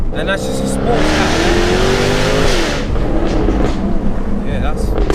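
Close and loud, a tuned 700 bhp Jaguar F-Type S sports car with methanol injection surges through an eight-speed gearbox, its engine pitch rising and shifting. Exhaust crackles follow, along with faint tire noise.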